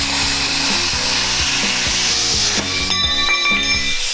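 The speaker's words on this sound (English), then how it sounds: "I did just cut up a brand new motor mount" Power-tool cutting through a brand new truck motor mount, a loud rhythmic rasping saw stroke repeating steadily at close range, with no voices.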